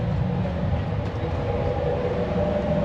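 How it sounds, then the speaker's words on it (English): Low, steady rumble of a moving luxury passenger train car running to the Grand Canyon, loud and continuous with no talking. "Train car."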